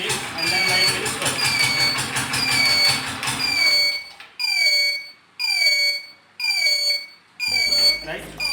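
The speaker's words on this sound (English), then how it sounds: "Now you can see there will be 6 beeps" A homemade smart helmet project gives a series of short electronic beeps, each falling slightly in pitch and evenly spaced, after a stretch of louder mixed noise with engine sound. A motorbike then cuts off, leaving a low rumble at the end.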